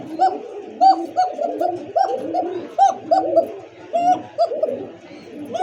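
Fancy pigeons, Lahori and Gorra among the breeds, coo in a steady series of rolling, repeated calls at close range, one pulse after another with hardly a break.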